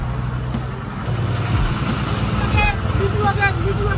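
An MSRTC bus on the Prayagraj to Nagpur route rumbles steadily as it pulls away, its low engine drone rising slightly midway, with people talking and calling farewells over it.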